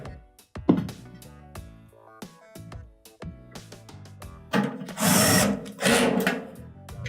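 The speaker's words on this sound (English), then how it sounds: "You put the 2 screws on the bottom." A power driver sets two screws into the bottom of a Frigidaire dryer. Clicks, taps and handling clatter come first, then two loud, sustained whirring bursts close by, with no talking.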